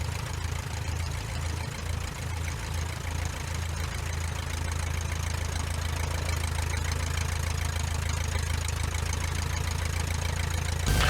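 Luscombe light airplane piston engine idling, a steady low rumble with a dense throbbing drone, loud and continuous for the whole stretch without pause.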